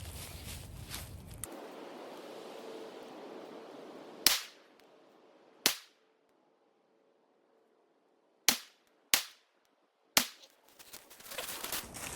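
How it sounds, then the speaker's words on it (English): Five sharp gunshots crack outdoors at a target nailed to a tree, spaced a second or more apart with a silent gap between them, following rustling noise at the start. "We're gonna do 5 more shots and see what we got going on."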